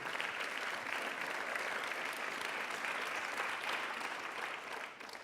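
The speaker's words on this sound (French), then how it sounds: "On peut l'applaudir." Sustained audience applause at the closing session of a conference, a dense, even roar of many hands clapping that holds steady for several seconds and then starts to thin out at the end, with no talking over it.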